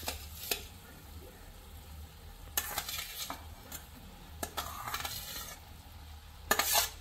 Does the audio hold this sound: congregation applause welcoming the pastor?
no